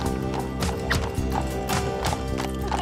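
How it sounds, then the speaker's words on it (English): A horse pulling a buggy after a wedding, its hooves clip-clopping in a steady rhythm, loud and near, with no talking over it. "who could say they actually left the church on a horse and buggy after they get married?"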